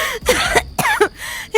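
A woman coughs and clears her throat in several harsh, close bursts separated by short pauses, with no talk around them.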